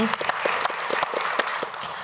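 Hands clap in a steady, moderately loud round of applause from a lecture-hall audience at a book event, with distinct sharp claps punctuating the dense patter.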